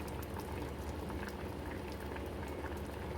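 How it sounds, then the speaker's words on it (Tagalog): Steady bubbling of water at a rolling boil, close and continuous, with no talking. "Ayan, o. Kumukulo na."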